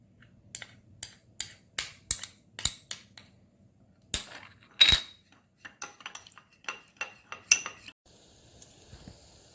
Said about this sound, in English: I'm just going to whisk the eggs